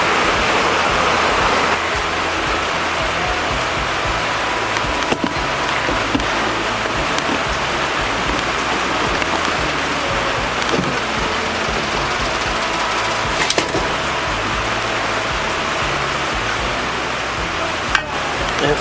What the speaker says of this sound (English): We're in kind of windy conditions